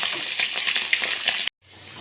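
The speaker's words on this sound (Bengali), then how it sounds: "তারপর আমি ভেজে নেব।" Fish egg pakora fritters frying in hot oil give a steady close sizzle with crackling pops, which stops abruptly and then returns more faintly.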